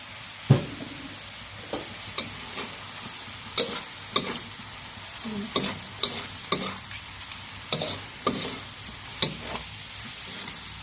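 Wide steamed rice noodles being stir-fried with pork in a little lard, with cabbage and egg: continuous sizzle punctuated by regular sharp scrapes and clacks of a spatula on the pan, close and fairly loud.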